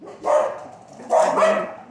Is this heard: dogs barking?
yes